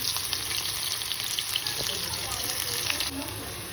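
Cumin and chopped onion sizzling in hot oil for a potato curry, a continuous close hiss with a watery, tap-like wash over it.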